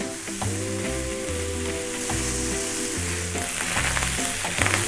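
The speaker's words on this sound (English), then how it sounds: "You can hear that rice frying" Rice sizzles in a hot pan as veg fried rice browns, giving a steady, close frying crackle throughout with music playing underneath.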